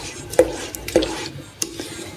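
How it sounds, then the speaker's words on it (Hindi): A spoon stirring carrot halwa (gajar ka gajrela) in a pot makes several scraping clinks against the metal at an uneven pace, over a faint background sizzle, with no talking. "आराम आराम से चम्मच को हिलाते जाएंगे"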